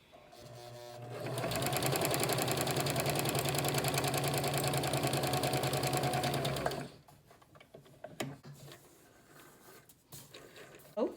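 A Kenmore 385 sewing machine sews a zigzag stitch on fabric with a steady, fast, close mechanical whirring chatter for several seconds, then stops, followed by quieter handling clicks.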